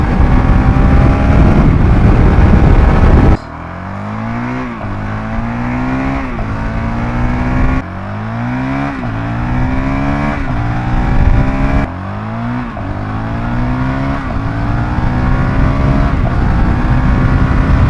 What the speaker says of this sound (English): listen to the difference in the run-up the engine makes